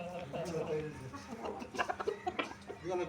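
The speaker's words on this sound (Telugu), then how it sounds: "ఇక్కడ అమ్మ వాళ్ళ ఇంట్లో ఈ కోళ్ళు అయితే బాగా చక్కగా ఎదిగాయండి" Bonta hens raised at a family home cluck close by in quick, irregular bursts, with a few louder squawks near the end. A person talks softly underneath.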